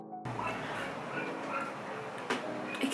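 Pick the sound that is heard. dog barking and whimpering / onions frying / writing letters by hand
dog barking and whimpering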